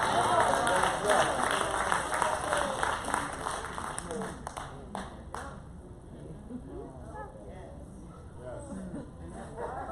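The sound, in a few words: church congregation clapping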